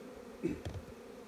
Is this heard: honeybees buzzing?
yes